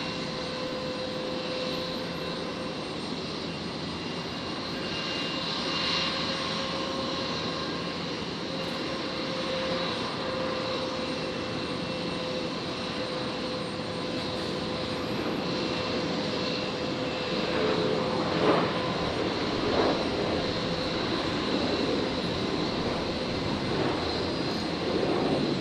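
A Qantas airliner rolls for takeoff on runway 01 right at Brisbane Airport at night, its engines a steady distant roar that swells slightly toward the end.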